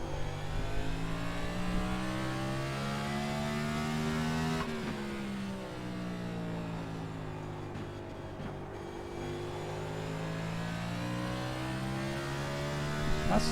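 An iRacing Next Gen stock car accelerates out of a turn at Martinsville, its engine note climbing steadily in a loud, close, sustained roar with a brief lift before pulling again.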